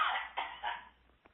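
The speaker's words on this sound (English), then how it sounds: "I have the need to cough" A single person's cough during a guided energy-clearing session, close and fairly loud, with a few short bursts fading to quiet.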